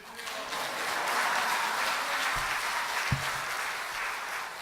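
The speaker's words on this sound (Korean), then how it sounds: "나오실 때 크게 할렐루야 하면서 박수로 환영하십시다." A church congregation at a Wednesday evening service claps to welcome the pastor, giving sustained, dense applause throughout with a couple of low thumps partway through.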